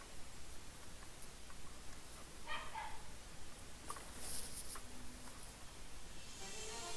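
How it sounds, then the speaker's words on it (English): Dogs bark from downstairs, muffled and somewhat distant, as scattered short yips and barks over a steady background hiss, with no speech heard. "I'm sorry you guys hear barking. That's the dogs downstairs."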